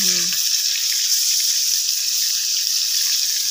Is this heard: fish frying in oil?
yes